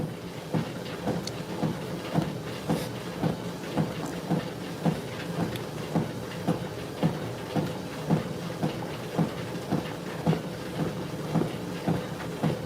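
A treadmill runs steadily while a person walks on it, giving a regular, even thudding rhythm of footfalls over a constant motor hum. No one speaks.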